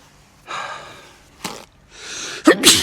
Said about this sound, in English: As soon as I start recording, I start sneezing.